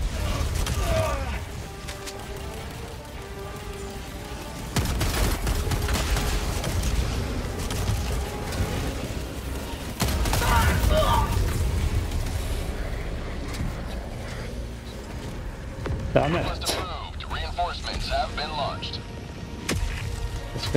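Grenade blasts and gunfire in the shooter game Helldivers 2, with repeated booming bursts and mechanical clatter layered under almost constant talking throughout.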